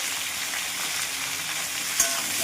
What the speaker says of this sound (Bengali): ভালো করে ভেজে নিচ্ছি, ভালো করে কষিয়ে তারপরে জল দিয়ে দেবো